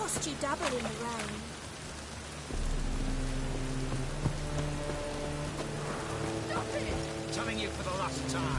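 Continuous rain falls and drips on surfaces at moderate volume in the video game The Witcher 3, with low rumbling and people talking over it.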